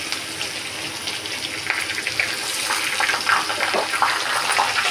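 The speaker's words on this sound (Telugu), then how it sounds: "నూనె కాగిందండి, అవి వేస్తున్నాను." A paste of onion, green chilli, coconut, ginger and garlic hits hot oil, giving a steady hissing sizzle that grows slightly louder and crackles toward the end, with no voices.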